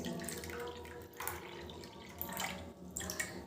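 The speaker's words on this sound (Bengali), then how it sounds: "এবার আমি এই জলটা বন্ধুরা ছেঁকে নেব।" Boiled guava leaf water pours through a strainer into a bowl, a soft, close trickle and splash that comes in uneven bursts, quiet and without speech.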